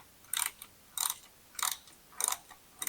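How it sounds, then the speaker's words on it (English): Bolts tightened on a motorcycle mounting plate: five evenly spaced bursts of ratcheting clicks about every 0.6 seconds, close and crisp with quiet gaps between. "these bolts will be tightened from the top"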